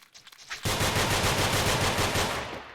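Video game gunfire from a boss fight: a rapid, loud automatic burst that starts abruptly and hammers on steadily, close and alone.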